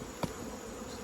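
Honeybees hum in an opened hive while a top super is swapped, a soft continuous buzz with one brief louder tap partway through.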